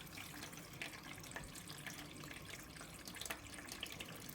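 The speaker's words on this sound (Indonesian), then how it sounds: "Sekarang kita isi lagi airnya secara manual." Steady running water pours into the tub of a single-tub AQUA AQW 77DH 7 kg washing machine, filled by hand during a manual rinse. The water gives a constant, close hiss with a few small splashes and no speech.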